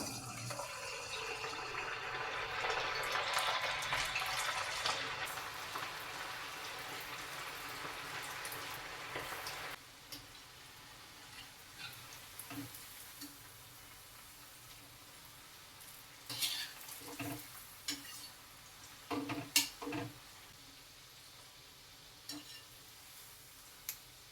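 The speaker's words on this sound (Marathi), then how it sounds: "फ्लावर डीप फ्राय करून घेऊया" Cauliflower florets for Gobi Manchurian deep frying in hot oil over medium heat, a steady bubbling sizzle with loud early frying that settles into quieter crackling and occasional sharp pops, no voices.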